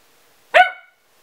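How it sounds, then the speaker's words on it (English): A dog gives a single short, sharp bark close by indoors, cutting through an otherwise silent room. "My dog wants to bark now."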